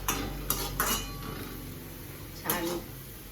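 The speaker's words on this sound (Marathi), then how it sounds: "छान गुलाबी परतून घ्यायचा असा कांदा." Onion sautéing in oil in a pan, a steady sizzle punctuated by three clanging stirs of a metal spoon against the pan, fairly close.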